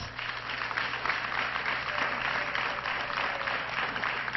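An audience of housing beneficiaries at a ceremony for new homes in Bibwa applauds, a steady wash of clapping held at moderate level throughout, heard from within a large crowd.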